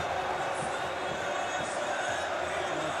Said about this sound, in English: This crowd is going nuts in the Olympic Stadium.